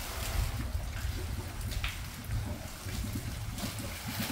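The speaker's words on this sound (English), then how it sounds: "You can see and hear the water starting to come out now." Water begins to flow from a pool water feature at a John Portman-designed home on Sea Island, a dense, steady rushing and splashing wash that stays fairly loud and even throughout.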